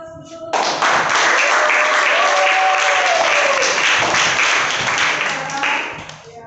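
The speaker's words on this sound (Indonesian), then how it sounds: "Kalau tidak ada, kasih aplaus dulu." A classroom of students breaks into sustained applause, loud and close, starting abruptly and clapping steadily for several seconds before tapering off, with some voices mixed in.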